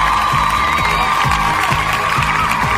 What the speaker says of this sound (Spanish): El aplauso, señoras y señores.